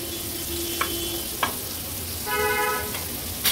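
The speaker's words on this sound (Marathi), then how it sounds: "हे बघा ह्या मागची बाजू पण आपण व्यवस्थित फ्राय करून घेऊया।" Pomfret fish pieces fry in a little oil on a flat tawa, giving a steady low sizzle with a few brief clicks and a short brighter burst of crackling partway through.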